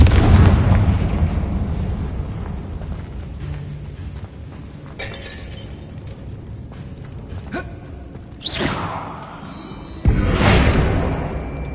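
Confringo fire spell blasts in the video game Hogwarts Legacy, loud shattering bursts with clinking debris, a big hit at the start and two more sharp blasts near the end, fading crackle between.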